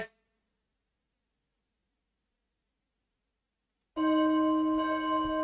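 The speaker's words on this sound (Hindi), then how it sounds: "घंटी बज गई" A bell rings after several seconds of near silence, entering abruptly and loudly with a clear, sustained metallic tone that rings on.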